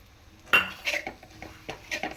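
Coriander stir-fried in a pan for egg fried rice: a handful of distinct metal spatula scrapes and clinks against the pan, close and fairly quiet, spaced irregularly with soft gaps between strokes.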